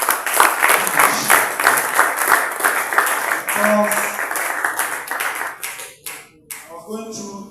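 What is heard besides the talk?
audience applause for a professor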